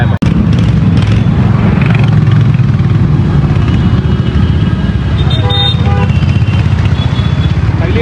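Road traffic on a jammed route near Lonavala during a palanquin procession, with vehicles starting and beginning to move, heard as a steady loud engine rumble and roadway noise throughout, with a brief horn-like tone near the end and voices in the background.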